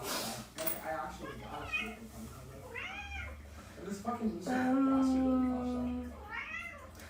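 A house cat meows several times nearby. The drawn-out calls rise and fall over people talking and low background noise.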